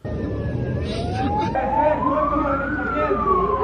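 Ambulance siren carrying a former president along an avenue in a city street, a continuous wailing tone rising and falling steadily over loud traffic rumble, fairly close throughout.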